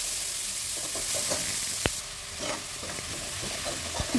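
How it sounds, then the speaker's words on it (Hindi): Finely chopped onions fry in a hot pan for a rajma curry, a continuous close sizzle broken by scraping stirs and a sharp utensil clink. "अब हम अनियन को अच्छे से भून लेंगे।"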